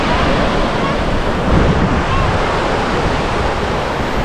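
Surf at Sable Beach on the Bruce Peninsula roars as a loud, steady wash of breaking waves, heavily buffeted by wind on the microphone throughout.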